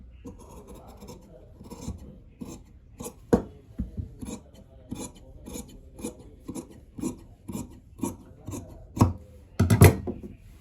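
Scissors cut through blouse fabric on a table, producing a steady series of close, crisp snipping and rasping strokes that grow slightly louder toward the end.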